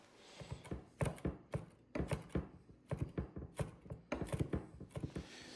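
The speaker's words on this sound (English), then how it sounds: "Then I need to chop the needles from the rosemary." Fresh rosemary needles are chopped with a knife on a board in quick, steady bursts of soft thuds, close and faint with no voices.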